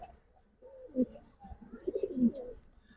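Giribaz pigeons, a pair kept with eggs, give soft low coos in short bursts, close and fairly quiet with a faint background.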